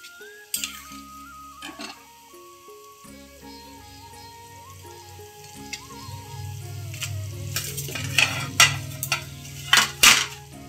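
Katla fish pieces frying in a pan while being stirred with a utensil, soft sizzling under scattered metal clinks and scrapes that grow louder and busier toward the end.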